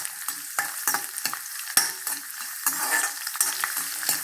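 Garlic sautéing in oil in a pan for a turkey berry pickle, a steady close sizzle broken by repeated scraping stirs of a spoon, with no voices.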